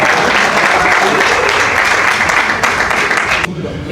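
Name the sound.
audience applause for rappers coming on stage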